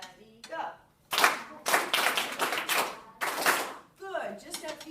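Hands clap during a classroom comprehension lesson, in sharp broadband bursts that run close together through the middle, with a voice heard before and after.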